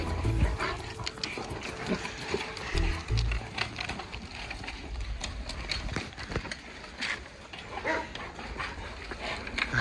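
Many dogs whine, yip and shuffle together in a dense, busy clamor, with scattered thumps and rustling throughout.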